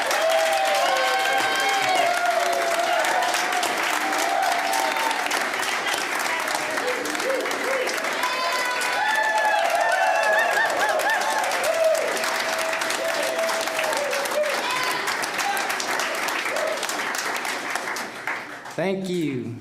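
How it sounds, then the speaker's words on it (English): A student concert audience breaks into dense, sustained applause that stays loud and steady for nearly twenty seconds, with voices calling and cheering mixed into the clapping before it thins out at the end. "So give him a round of applause."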